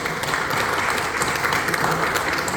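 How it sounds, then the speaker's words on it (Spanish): Sustained applause from an audience at a book fair event for author Alberto Rojas, dense steady clapping from many hands throughout. "Un gran aplauso para el señor Alberto Rojas."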